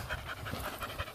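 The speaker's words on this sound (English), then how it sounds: "Here comes the dog." A dog pants rapidly and close by in quick, even breaths, with no voices over it.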